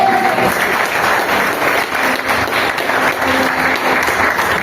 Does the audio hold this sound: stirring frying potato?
no